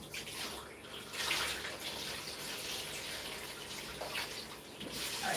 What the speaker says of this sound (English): we're gonna keep washing our rice